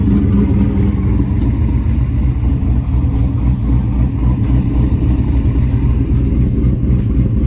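A Chevrolet Camaro's pushrod V8 runs steadily and loudly nearby, its deep engine rumble holding through the whole stretch with only mild swells of revving and no voices.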